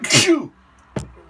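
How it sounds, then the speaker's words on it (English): A single sharp sneeze burst up close, followed by a brief quiet and a short sniff or throat noise. "I think I'm going to sneeze."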